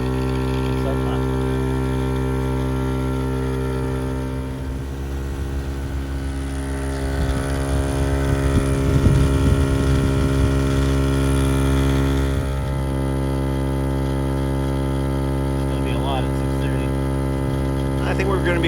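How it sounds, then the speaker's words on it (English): Viair 440P portable off-road air compressor inflating a trail-aired tire from 15 to 30 psi, running as a steady close motor hum with a constant whine, a louder rattly stretch in the middle, and faint talk. "Now we're airing up from our trail pressure of 15 psi up to 30 psi using the Viair 440."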